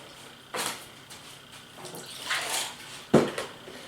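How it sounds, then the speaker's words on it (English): Apple juice or cider is poured over ribs on a Traeger grill, with several short splashing bursts and liquid sloshing against the pan, near and fairly clear. "Then I'm going to pour a cup of apple juice or apple cider"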